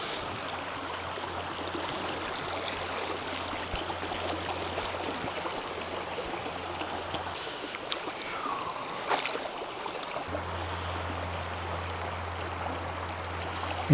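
Oak Creek flowing past rocks at Baldwin Crossing near Sedona, a steady close wash of stream water running throughout with no talk.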